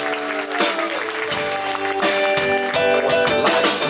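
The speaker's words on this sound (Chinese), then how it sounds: "掌声给三太子老师" Audience applause at a live stage performance featuring the Santaizi (Third Prince) performer, a steady broad clatter of clapping that runs the whole stretch beneath loud, sustained music.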